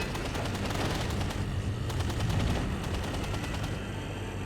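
Naval guns fire in rapid, dense volleys during a World of Warships battle, a steady loud barrage of overlapping shots with no pauses and no voices.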